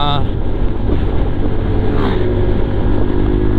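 A motorcycle passes along a road near Bueno Bridge, its engine droning steadily and loud throughout with a slight rise in pitch mid-pass, amid broad road and wind noise.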